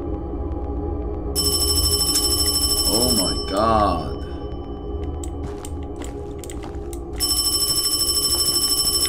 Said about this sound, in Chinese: 我来了，我来接电话了。